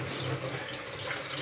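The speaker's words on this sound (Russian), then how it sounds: "карпа нужно хорошо промыть под холодной проточной водой" Cold tap water runs steadily while a carp is rinsed under it, giving a continuous close splashing rush with no pauses.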